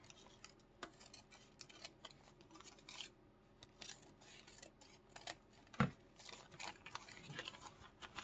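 Scissors trimming wrapping paper, quiet close snips and paper rustles in a soft irregular rhythm, with one sharper crinkle partway through and no talking.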